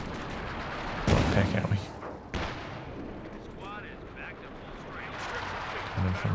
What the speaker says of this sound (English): Major artillery.